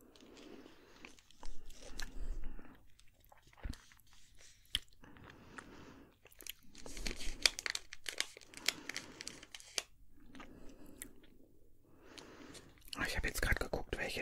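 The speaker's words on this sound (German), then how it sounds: "weiter knuspern" Mixed nuts, almonds among them, are crunched and chewed close to the microphone in a quiet ASMR setting. Crisp bursts of crunching come in uneven clusters, with soft pauses between them.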